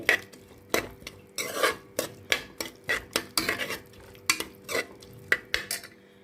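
A utensil stirs and scrapes rhythmically against a pan while big onions sizzle faintly in oil for chicken gravy beneath the repeated clatter, close by, with no voices.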